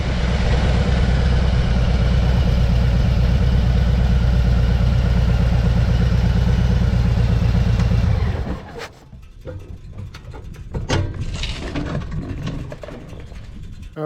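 A motorcycle engine idles loudly and steadily up close at a roadside rest stop for about eight seconds, then cuts off abruptly, leaving quiet outdoor ambience with small clicks and rustles.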